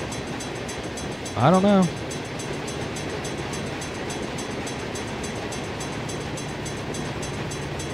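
Long train passing in a railroad video game, a steady rumble of railcars rolling by throughout with one short horn blast early on, and a voice speaking briefly.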